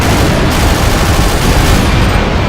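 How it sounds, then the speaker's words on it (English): Quadruple DShK heavy machine guns firing in a Battlefield game, a continuous, very loud dense roar of overlapping rapid shots filling the whole stretch without pause. "With our quadruple DSHK machine guns, we're going to play a little song for these Americans"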